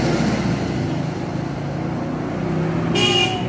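A motorcycle drones along a highway beside a house, a steady moderately loud engine and road rumble, with a brief higher-pitched horn-like tone near the end and no talking.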